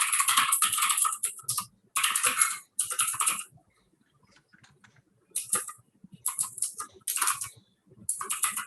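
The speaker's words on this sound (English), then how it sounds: "Nice keyboard, Ganesh." Rapid typing on a computer keyboard in bursts with short pauses, clattering keystrokes close to the mic during an online contributors workshop call.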